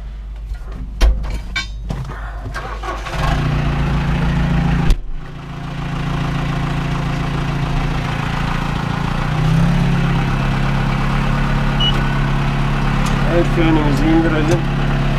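Tractor engine cranking with a few sharp knocks, then catching and settling into a steady low idle that runs on continuously, with people talking over it.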